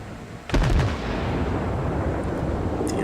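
A warship's main battery fires in a naval video game: one loud, sharp salvo boom that fades into a long low rumble, followed by faint background noise.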